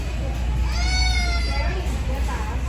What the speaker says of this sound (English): sorry about the crying baby